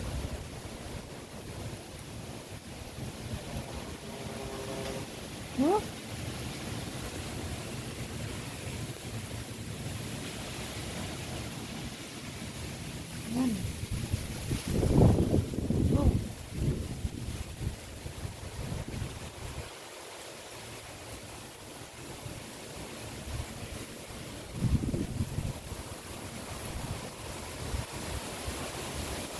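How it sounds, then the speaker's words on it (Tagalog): Steady rushing wind roars across the microphone with gusty swells in Manila, while a voice speaks a few short words in Filipino now and then. "Lakas ng hangin."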